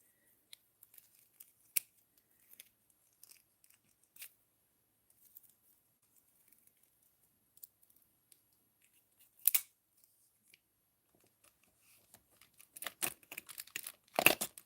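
Clippers snip corrugated craft spacers with small sharp clicks, sparse and faint at first, then a louder cluster of quick snips and crinkly handling near the end.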